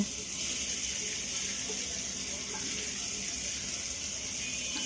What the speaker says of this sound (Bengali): সবগুলো উপকরণ আমি এখন ভালোভাবে ভেজে নেব।